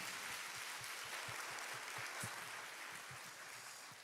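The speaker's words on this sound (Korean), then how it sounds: "하나님 앞에 박수로 영광을 드리겠습니다" A congregation at a summer church retreat service applauds, a broad wash of many hands clapping that holds steady and tapers slightly, heard faintly and alone.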